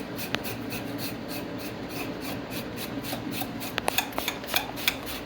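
An apple peeler skiver shaves a piece of leather thin in a steady close rasping scrape, with a few sharper clicks and scratches near the end.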